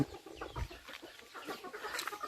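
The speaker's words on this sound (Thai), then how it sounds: "ไก่ก็หลายเนาะ" Farmyard chickens cluck and murmur up close, with several birds overlapping in short, throaty calls. The sound continues steadily through the short recording, and no one speaks.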